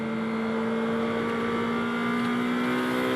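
Race car engine at high revs, a Blancpain Sprint Series car in free practice at Moscow, the pitch climbing through an upshift; a loud, steady onboard drone with no talk.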